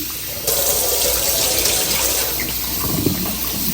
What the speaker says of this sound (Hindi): अब जो है मैं अच्छे से इसको वॉश करूँगी